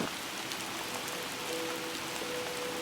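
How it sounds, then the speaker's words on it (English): Heavy rain pouring down during a storm over a high school football campus, a dense continuous wash of drops close by, with a faint tone running underneath. "While the rain grew thicker and the storms rolled over the Northport campus"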